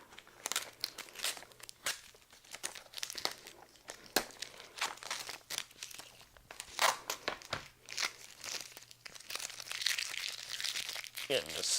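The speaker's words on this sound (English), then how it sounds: "Getting this tape out of the way here" Tape being peeled and crinkled off a retro video game cartridge package, a run of crackling, tearing bursts with irregular rhythm, close and fairly quiet.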